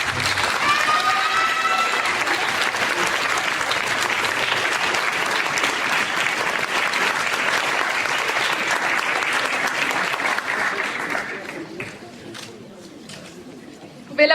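Sustained applause from a gala audience at a Miss Excellence Oise 2019 beauty pageant honoring the second runner-up, dense and steady for about eleven seconds before thinning out, with faint crowd chatter mixed in.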